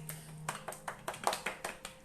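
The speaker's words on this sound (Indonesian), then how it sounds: "Kita beri aplaus dulu." A small classroom group of about four students gives brief, light applause for a presenting group, a dozen or so thin claps in a loose irregular rhythm, close by but soft.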